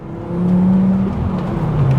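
Engine of a manual Volvo S60R sports sedan while driving, a loud, steady growl that swells as it builds and holds, heard from inside the car without talk.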